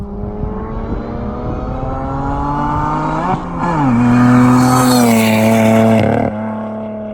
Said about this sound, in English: The supercharger whine on this car is just really intoxicating.